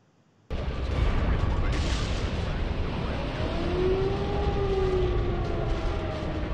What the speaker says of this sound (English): it starts out with an air raid siren at the beginning here